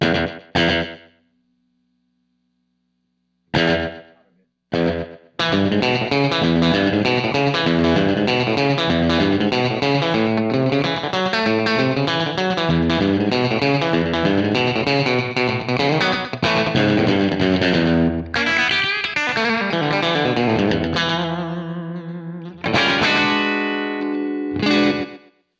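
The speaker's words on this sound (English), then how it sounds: "turn the tape head level up so that those delays kind of distort a little bit" Distorted electric guitar through an Echoplex preamp tape echo, playing rhythmic riffs with a gritty, distorted repeating slapback echo trailing each note, after a few short opening strums and pauses.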